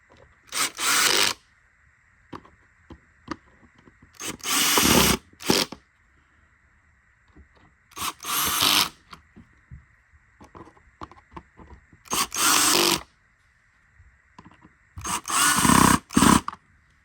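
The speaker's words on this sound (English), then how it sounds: "So you just take the rest of these screws and you just screw them right back in." A power screwdriver drives screws back into a Bissell CleanView Rewind Pet vacuum in five short whirring bursts, each a second or so long, separated by quiet handling noises.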